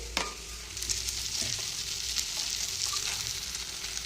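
Ground cumin paste and ginger-garlic paste fry in hot oil in a pan, a steady close sizzle with faint stirring scrapes throughout.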